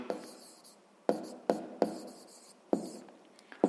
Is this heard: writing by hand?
yes